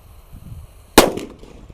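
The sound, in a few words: thunder firecracker exploding inside a hole in the ground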